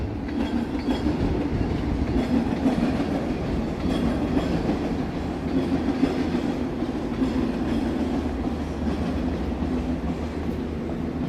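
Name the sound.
train passing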